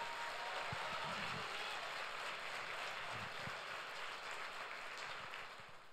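A congregation at a Sunday church service applauds for Jesus, a faint, steady wash of many hands clapping that holds evenly for several seconds and thins slightly at the end.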